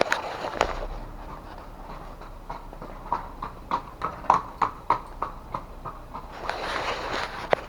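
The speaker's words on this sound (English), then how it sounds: "I just gotta show the horse and buggy." A horse pulling a buggy clip-clops past in a quick, even trot, the hoofbeats growing louder and clearer mid-passage before fading, with a low vehicle hum beneath.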